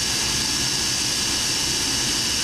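A 12 horsepower Mitsubishi commercial CNC router runs with a steady, loud broadband whine and hiss, continuous and unchanging, with no voices.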